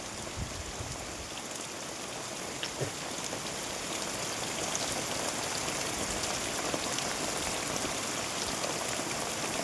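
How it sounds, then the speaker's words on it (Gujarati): Heavy rain pours onto farmland with cotton fields, a steady, dense hiss of drops that swells slightly and continues without pause. No voices are heard. "બહુ વરસાદ પડી ગયો આપણે આજ"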